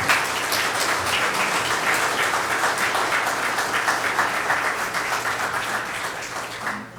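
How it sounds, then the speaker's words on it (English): An audience at a candidate forum applauds steadily for about seven seconds, a dense, even wash of clapping that fades slightly at the end. "Let's have another round of applause for all three of these gentlemen."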